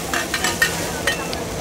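Mussels sizzle steadily in hot oil at a night market stall in Surin, with a bright continuous frying hiss and a few sharp scraping stirs of a utensil.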